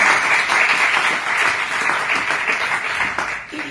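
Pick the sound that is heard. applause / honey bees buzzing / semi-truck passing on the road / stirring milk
applause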